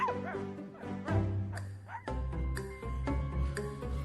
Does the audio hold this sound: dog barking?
yes